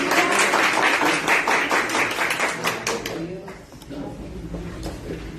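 A church congregation gives a dense burst of applause during a worship service, loud and continuous at first before thinning out and fading into quieter room sound.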